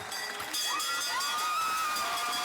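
Cheering crowd of family, friends, doctors, nurses and Cavs dancers lining a human tunnel as a young girl walks through, a steady broad roar of many voices with high whistles and shouts rising over it.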